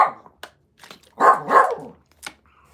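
A puppy barks in a few short yips, then two louder, longer bursts and a final bark, close by with quiet gaps between.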